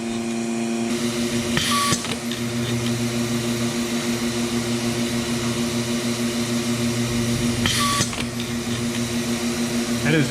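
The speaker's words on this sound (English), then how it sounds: "That is a new sound. It didn't whistle before." A GAST rotary vane vacuum pump runs with a steady, loud mechanical drone and a sustained whistle on top, broken by two short bursts of hiss about six seconds apart.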